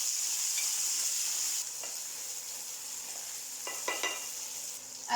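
Tomatoes stirred into a hot frying pan with onion and garlic give a steady loud sizzle, with a few soft scrapes of the spoon partway through and no talk.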